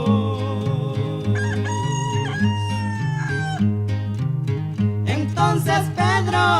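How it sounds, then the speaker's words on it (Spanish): A rooster crows in long, shrill cock-a-doodle-doo calls over steady background music, the crowing carrying clearly and loudly through the passage. "y el gallo cantó en alta"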